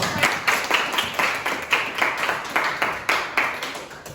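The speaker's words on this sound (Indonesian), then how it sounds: "Kita tepuk tangan dulu." A class of pupils clapping hands together in steady rhythmic unison, several bursts of claps evenly spaced, moderately close and fairly faint with no talking.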